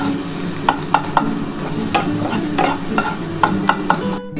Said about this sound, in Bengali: আমি ডিমটা একটু ভেজে তুলে নিচ্ছি।